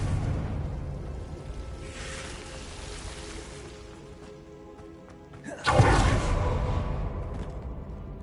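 A Confringo blasting curse in the Hogwarts Legacy video game erupts in a sudden loud explosive burst after a quieter stretch of ambient game noise, then rumbles and decays.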